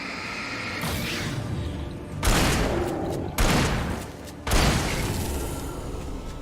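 Shotgun blasts in the video game Alan Wake, three heavy booming shots spaced about a second apart over a dense, roaring background.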